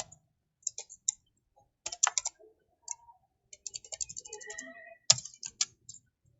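Quick bursts of keystrokes on a computer keyboard as HTML code for a submit button is typed, clicks coming in uneven clusters with short pauses between them, close and clear with no talking.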